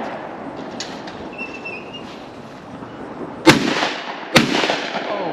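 Two sharp shotgun shots at a Ducks Unlimited clay shooting event, heard at a moderate distance a second apart over steady outdoor background noise.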